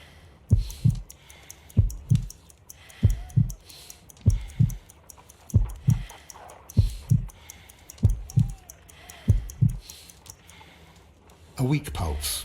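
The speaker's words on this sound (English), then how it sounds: "I need to concentrate and count the heartbeats." Heartbeats in the Sherlock Holmes Crimes & Punishments video game, a steady run of paired low thumps repeating about once a second, close and clear, over a faint ambient background, with a brief louder noise at the end.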